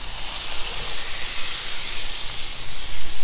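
Leftover onion oil hits a hot pan of Filipino-style corned beef, giving a loud, steady, unbroken sizzle and hiss that holds evenly for the whole stretch with no talking.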